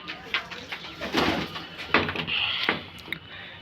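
A pair of pet pigeons gives soft, repeated cooing close by, with light fluttering and handling noises in between and a faint voice in the background.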